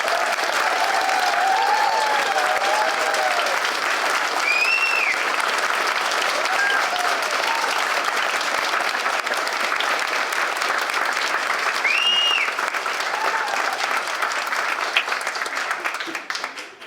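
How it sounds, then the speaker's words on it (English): At the Sherborn Library rededication and ribbon cutting, a crowd applauds the library staff with sustained, thunderous clapping, mixed with a few whistles and cheers, until it tails off at the end. "a thunderous round of applause for the Sherborn Library staff"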